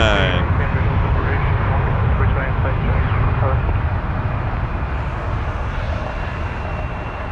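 An Airbus A321-211 airliner taxis at Toronto Pearson, its jet engines giving off a steady, broad rumbling whine that fades slightly as it turns, with speech heard over the engine noise.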